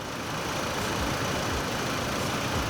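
Chevrolet Colorado pickup engine idling, a steady low rumble held at even level throughout, close and unbroken, with no voices.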